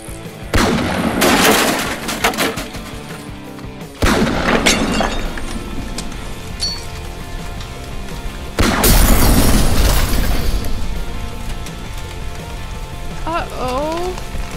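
Gunfire from a hamster's robot mech suit erupts in heavy, loud bursts of clattering shots and booms in three long barrages, with a sustained crackling roar between them and a brief squeaky chirp near the end.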